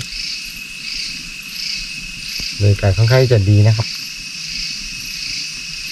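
Crickets chirp at night in a cold winter forest, a steady, pulsing, high chorus that carries on throughout while someone briefly speaks in the middle.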